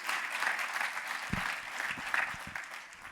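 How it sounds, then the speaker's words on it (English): An audience at a Stanford business school leadership event claps for a speaker after his inspiring story, a steady, moderately loud round of many hands heard from within the room. "One more round of applause for Vishal and his very inspiring story."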